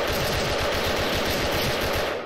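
M16A2 rifle fire in the online shooter Special Force, a dense, loud stream of rapid automatic shots and overlapping gunfire that runs without a break for about two seconds.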